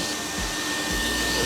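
A hot air plastic welding gun set to about 280 degrees, heating HDPE fittings on an industrial fertiliser tank, blows a steady, loud, continuous rushing hiss.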